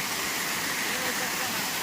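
Jodumamidi waterfall near Paderu roars in a steady, dense rush of falling water, loud and close, with no pause across the whole stretch.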